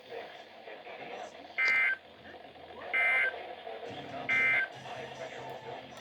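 NOAA weather radio Emergency Alert System test tones: three short, evenly spaced, loud data bursts over a steady broadcast hiss, with a voice speaking beneath the signal.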